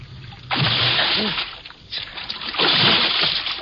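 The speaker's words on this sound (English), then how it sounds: "I ran to the rail and vaulted over into the icy river." A man vaults over a rail and plunges into an icy river in a 1950 radio drama, producing two loud splashing surges of churning water, the second longer and heavier, with a brief lull between.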